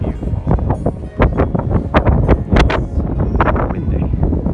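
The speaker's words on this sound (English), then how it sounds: "Windy." Gusty wind buffets the microphone above the city of York, a steady rumbling roar with sharp broadband bursts, loud and close throughout with no clear speech.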